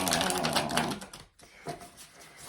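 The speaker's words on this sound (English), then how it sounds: "I'm going to shuffle a little bit. I like to shuffle." Dense, rapid papery riffling and clicking of a tarot deck being shuffled, close up, with a brief pause midway before lighter, scattered shuffling resumes.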